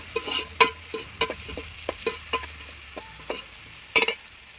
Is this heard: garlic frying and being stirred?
yes